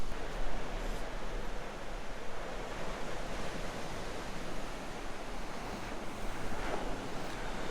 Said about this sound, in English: You have a couple of surfers out there in the water today. The waves are okay-ish for surfing.